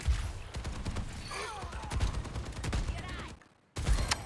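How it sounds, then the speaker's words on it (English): Rapid bursts of Overwatch gunfire crackle close and loud in a King's Row match, layered with a sustained stream of shots and game effects before a brief drop to near silence. "Your Bastion gets shot in the back."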